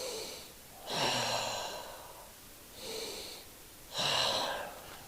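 Slow, audible breaths during a seated stretching exercise, alternating inhales and exhales, each lasting about a second with pauses between, close and moderately loud with a slightly raspy, airy tone.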